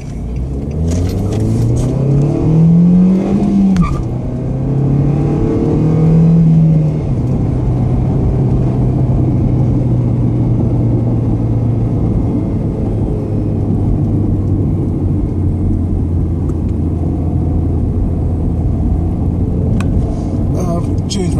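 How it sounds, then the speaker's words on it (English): A Nissan Sentra with a 130-horsepower engine and a 6-speed manual gearbox accelerates up through the gears, engine pitch climbing and dropping at each shift, then settles into a steady cruising drone with loud road rumble inside the cabin. "So I'm gonna let you hear the engine."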